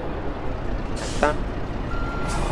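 A truck in American Truck Simulator backs up under a constant engine rumble, with a quick sharp air-brake hiss midway and a reversing beep tone coming in near the end.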